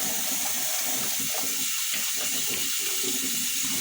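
Tap water runs steadily into a kitchen sink while dishes are washed, a loud, constant broadband rush that fills the whole stretch with no speech over it.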